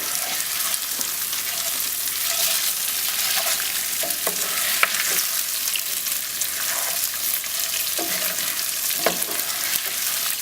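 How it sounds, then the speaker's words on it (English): Brown rice sautéing in a pan for sherry chicken, a steady close sizzle with occasional scraping clicks of stirring, loud and continuous without speech. "as it sautés in here, look at it."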